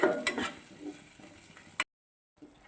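Tomato paste frying in oil in a pan for capsicum gravy, a close crackling sizzle with scraping stir strokes that stops abruptly, then a brief silence before faint frying resumes.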